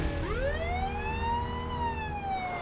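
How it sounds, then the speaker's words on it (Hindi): A police siren wails in a rising and falling sweep, loud and close over steady low traffic rumble, in an animated Roblox biker story. "उसी वक्त पुलिस की सायरन वहां गूंज उठी"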